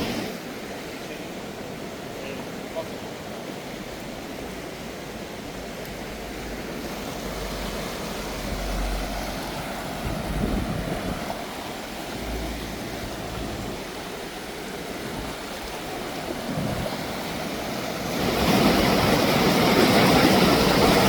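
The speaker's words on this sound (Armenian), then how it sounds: "գետը շատ վարար է" The flooded Debed river in Akhtala rushes past as a steady, broadband roar of fast water, continuous and fairly distant, swelling louder toward the end.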